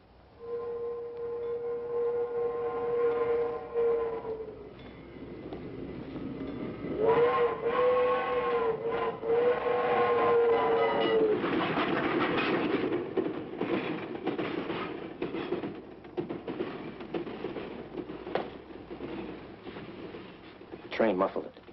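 A passing train in a film scene, a long, loud steam whistle blowing twice over the rumble and rattle of the cars, the clatter carrying on steadily after the whistle fades.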